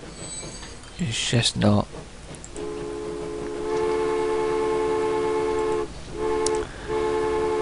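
Trains running in the video game Transport Fever: a sustained harmonic horn or whistle tone holds steady over rail rumble, with a brief spoken phrase near the start.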